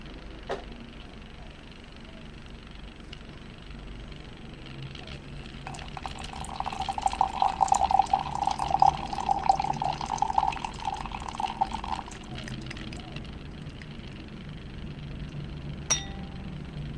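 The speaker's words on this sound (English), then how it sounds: "All the water out. I don't want any water sitting in there." Brewed Darjeeling white tea pouring out of a teapot, a steady trickling stream of liquid lasting several seconds in the middle, framed by light clinks of the pot and cup.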